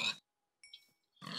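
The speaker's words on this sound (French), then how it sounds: "Tu sais quoi, il y a des porcs." Pigs grunt in a block-building survival video game, giving a few short, soft oinks between louder bursts of other noise.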